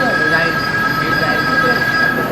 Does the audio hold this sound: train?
yes